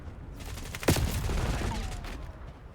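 Video game gunfire: a sharp burst of shots stands out, followed by rapid decaying reports and rattling over a constant noisy game backdrop.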